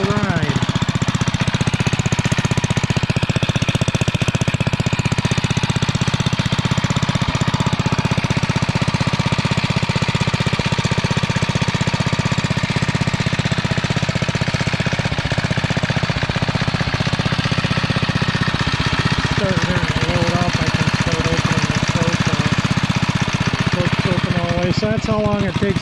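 A REO trike engine runs on choke while warming up in cold weather, a continuous loud, close, rapid knocking chug that stays steady for the whole stretch.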